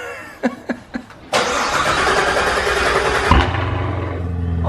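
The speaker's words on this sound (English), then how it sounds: "Teens, you want to give him a cold start on this bad boy?" A few soft clicks, then a Corvette engine cranks on a cold start and roars to life, settling into a deep, steady idle up close.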